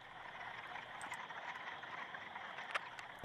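A steady, dense chorus of frog croaks carries on throughout, with no voices, plus a sharper click near the end.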